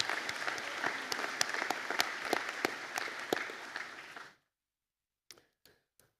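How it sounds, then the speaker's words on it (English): A round of applause from a graduation ceremony audience fills the hall with steady, dense clapping for about four seconds, then stops abruptly, leaving silence broken by a few scattered, isolated claps. "we'll give a round of applause, I think, anyway"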